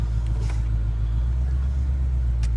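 A 2012 Ford Mustang GT convertible with automatic transmission idling, a steady deep low rumble heard close and continuous, with a couple of faint clicks over the engine and no talking.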